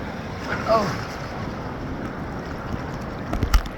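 Ocean waves roll in at Kuakata beach after a cyclone, a steady broad wash of surf mixed with gusting wind noise, with no voices.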